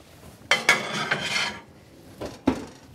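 A heavy cast iron pan holding pork tenderloin goes into a broiling oven: two sharp metallic clanks close together, a scraping slide, then a rattle and another clank a moment later, with no talking.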